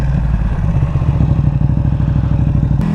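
A Ducati Panigale V2 special edition motorcycle's V-twin engine rumbles close by with a loud, deep, lumpy pulsing beat, a steady rhythmic throb ending in a brief click.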